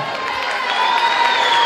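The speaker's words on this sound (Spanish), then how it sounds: "¡Un fuerte aplauso para él!" A carnival tent audience cheers and claps with a bright, dense wash of applause and shouting, loud and continuous across the short moment, with whistling tones rising over the crowd.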